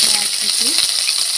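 Chopped onions fry in hot ghee with cloves, cinnamon, cumin and cracked cardamom for a chicken lahori. A close, steady, bright hiss of sizzling runs throughout without pause, with faint low stirring knocks beneath.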